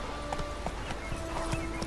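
A horse's hooves clip-clop at an even walking rhythm in The Witcher 3, about six crisp, close strikes over a low ambient hum, with no talk.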